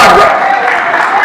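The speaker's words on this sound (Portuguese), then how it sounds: "Dá uma salva de palmas para ele." Church congregation applauding, a dense wash of many hands clapping loudly and close, with voices mixed in.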